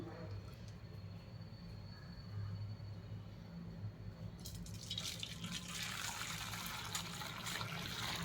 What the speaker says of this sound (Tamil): ஒரு ஜன்னி வச்சுட்டு நம்ம இதை வடிகட்டி எடுத்துடலாம்